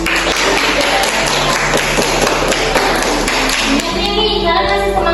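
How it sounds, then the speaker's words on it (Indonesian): A class applauds a student during an online biology lesson, loud uneven clapping with distinct taps and thumps close to the microphone over a steady background hum, stopping abruptly near the end as a faint tone follows. "Beri tepuk tangan kepada Kalista."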